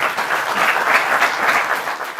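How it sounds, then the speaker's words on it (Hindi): Loud, sustained applause from an audience at a Holi mushaira, welcoming a poet to recite; dense, even clapping fills the whole stretch without pause. "जोरदार तालियों से उनका स्वागत करिए"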